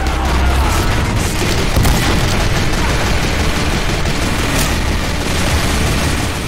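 Dense, nonstop gunfire and booming blasts from a Team Fortress 2 zombie escape match, loud and continuous with overlapping shots throughout and no pauses.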